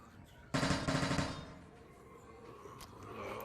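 A rapid burst of gunfire in a VR video game, a loud rattling string of shots lasting about a second, followed by quieter background game sound.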